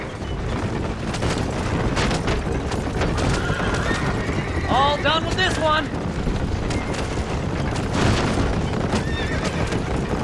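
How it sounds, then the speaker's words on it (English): Horses in Red Dead Redemption whinny sharply amid pounding galloping hooves and gunfire booms, with a voice speaking over the busy, loud action. "Move them horses, damn it!"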